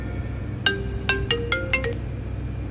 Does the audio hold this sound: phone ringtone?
yes